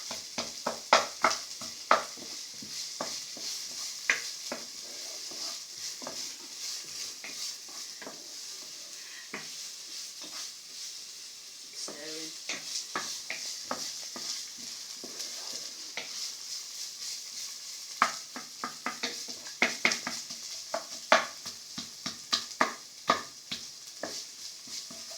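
Onions for a curry fry quietly in a pan, a soft sizzle broken by frequent clicks and scrapes of a utensil stirring, steady over a long stretch with bursts of clatter, no speech.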